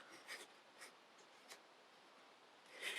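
Scissors cutting cardstock paper for a 3D vintage Christmas gift card holder, giving a few soft, close snips and scratchy paper rustles with quiet gaps between them and no talking.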